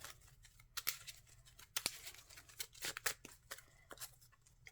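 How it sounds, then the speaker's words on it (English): Playing cards being shuffled at close range, quick irregular flurries of crisp riffling and snapping, fairly faint over a quiet background. "Don't know why I shuffled that."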